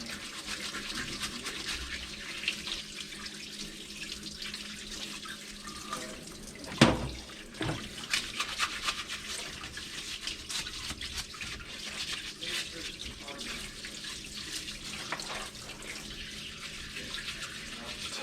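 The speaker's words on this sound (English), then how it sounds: "we're just going to rinse off all the stuff and scrub a little bit here and there" Water runs steadily from a tap while a tamper tool is rinsed and scrubbed clean of dirt and sediment, a continuous faint hiss with one brief clatter partway through and no talking.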